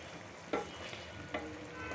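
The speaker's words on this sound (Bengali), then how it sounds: "ছোট্ট একটা কড়াইতে রান্না করতেছি রান্না করতেছি বড় পাঙ্গাস মাছ" Large pangas fish curry simmering in a small wok with tomato and onion, a soft continuous sizzle and bubbling with two brief sharp crackles.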